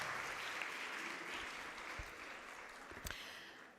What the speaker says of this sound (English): Let's give a very big round of applause, everybody, for organizing this event